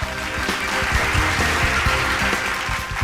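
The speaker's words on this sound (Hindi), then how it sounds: "तो दोस्तों, ये हो गई पहली गांठ। तालियां दोस्तों।" An audience applauds a magician's rope trick, with dense, steady clapping throughout and faint voices underneath.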